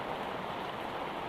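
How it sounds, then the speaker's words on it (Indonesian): Heavy rain pours steadily at a garden hut, a dense, loud, unbroken wash of drops that holds at an even level throughout, with no voices. "Kebetulan turun hujan sangat deras"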